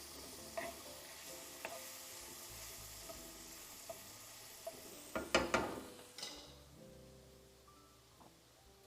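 Garlic frying in a pan, a faint sizzle running underneath with scattered stirring clicks and a louder burst of scraping and spatter near the middle, close and without talk.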